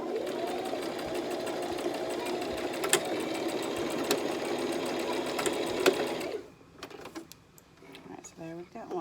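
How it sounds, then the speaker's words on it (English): A sewing machine stitching a fabric face mask runs in a steady rapid whir with rhythmic mechanical clatter for about six seconds, then stops; a voice speaks over the end. "then I just keep on sewing"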